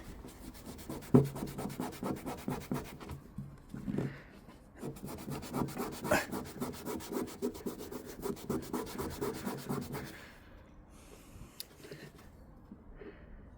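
Rubbing and sanding on a car badge to work it off the bodywork, a steady scratchy back-and-forth rhythm close up, with a brief pause near four seconds, easing to lighter, sparser strokes for the last few seconds.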